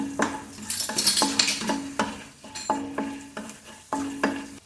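Garlic fries in a pan for spinach soup while a metal spoon stirs and scrapes it, giving repeated close clinks and scrapes over a light sizzle.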